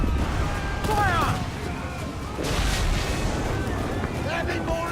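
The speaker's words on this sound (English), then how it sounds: "Broadside cannons just do a lot more damage." Broadside cannons fire from a sailing ship in the Assassin's Creed IV: Black Flag video game, with heavy booming blasts rolling over constant wind and sea noise. Voices shout beneath the blasts.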